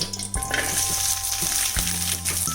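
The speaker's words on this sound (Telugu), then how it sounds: "పచ్చిమిర్చిని కూడా మంచిగా ఫ్రై చేసుకుందాం ఆయిల్లో" Green chillies fry in hot oil in a kadai for dondakaya roti pachadi, a loud, close sizzle broken by a couple of stirring jolts.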